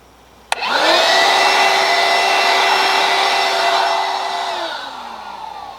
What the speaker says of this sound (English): A DeWalt 20-volt sweeper.